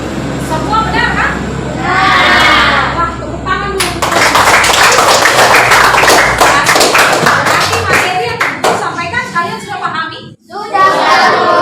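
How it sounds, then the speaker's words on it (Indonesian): Students in a classroom break into loud, dense clapping that lasts several seconds, close and energetic, with a teacher's voice and children's chatter mixed in before and around it. "Wah, tepuk tangan dulu."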